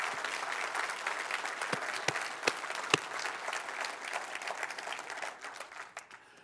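Church congregation applauding together, a dense sustained wash of clapping with a few sharper individual claps standing out, fading slightly toward the end.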